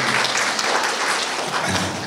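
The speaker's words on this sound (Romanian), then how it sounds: "vă rog să o aplaudăm" Applause from the audience at the inauguration of a youth centre in Orbeni, honouring a university lecturer. Dense, steady clapping fills the whole stretch, loud and close, with no voices over it.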